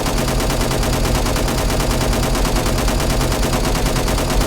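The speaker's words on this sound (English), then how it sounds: "I do like that, you know, these light machine guns" Light machine gun firing nonstop in the sci-fi shooter Angels Fall First, a loud, dense rattle of rapid shots running the whole stretch with no pauses and no voices.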